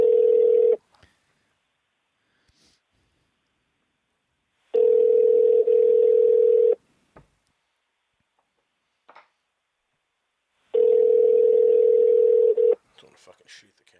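A telephone tone during a radio show call: three long steady tone bursts of about two seconds each, separated by roughly four seconds of near silence, loud and close with no talking over them.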